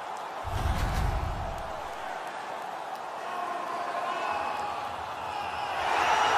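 Arena crowd cheering in an EA Sports NHL hockey game after a Montréal Canadiens goal, a steady broad roar that swells near the end, with commentary voices talking over it.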